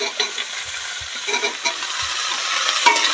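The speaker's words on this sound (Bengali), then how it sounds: "এবার পেঁয়াজ আলু লঙ্কা ভালো করে সুন্দর করে আমি ভেজে নেব" Onion, potato and green chili fry in oil with whole cumin, making a bright continuous sizzle close by, with soft low knocks of a spatula stirring the pan; no voices.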